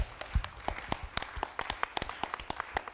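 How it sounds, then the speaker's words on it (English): Audience applause at the close of an electroacoustic improvisation summit evening in New York, heard as sparse, scattered individual claps with sharp separate transients rather than a dense ovation, moderately close and fairly quiet. "Let's give a round of applause to everyone who"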